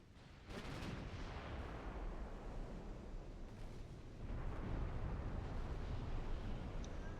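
Naval gunfire in Ultimate Admiral: Dreadnoughts, with the Royal Navy fighting Italian ships: low, rumbling cannon booms roll steadily through the whole stretch and swell louder toward the end, with no talking.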